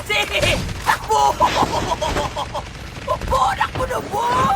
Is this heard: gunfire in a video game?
yes